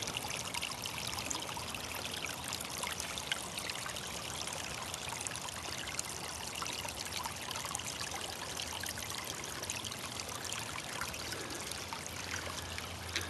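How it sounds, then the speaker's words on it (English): A stream flows over a series of small waterfalls in a steady, close rushing trickle that never lets up, with no voices. "See how the water's coming in? Bunch of little waterfalls."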